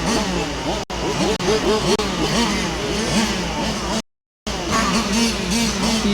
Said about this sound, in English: See Victor Garcia's red and white car out there, looking really quick.